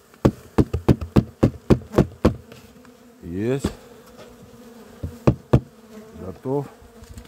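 Honeybees from a split colony being shaken into a hive for overwintering, a rapid series of sharp knocks and taps, then a rising swell of buzzing; a voice speaks briefly.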